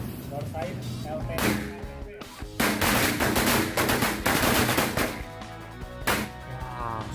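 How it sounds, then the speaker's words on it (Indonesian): A Corsairs LT666 KTP firecracker string goes off in dense, crackling bursts of rapid pops that rise and fall over several seconds, with voices mixed in among the blasts. "Yang selanjutnya kita nyalakan mercon Corsairs LT666 KTP."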